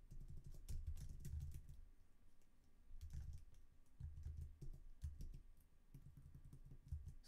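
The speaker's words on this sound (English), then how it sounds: "So we type in sudo hostname learn docker." Keystrokes on a computer keyboard enter a command at a Raspberry Pi terminal, quiet, close and rhythmic bursts of typing with brief pauses between words.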